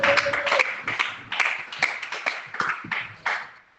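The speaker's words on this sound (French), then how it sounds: "Applaudissez le Seigneur de gloire." A church congregation claps together in loud, uneven bursts that surge and fade across several seconds, with no voices over the applause.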